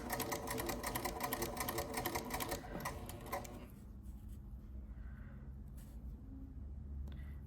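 A sewing machine stitches curved quilt pieces, its rapid even clatter running close and steady for a few seconds before stopping, leaving only quiet room tone.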